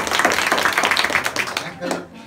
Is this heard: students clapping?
yes